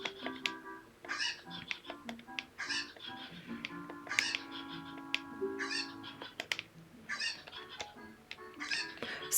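Cuccos, the chickens of Ocarina of Time, cluck and squawk in a video game with a chirpy, repeated rhythm, steady and fairly close throughout.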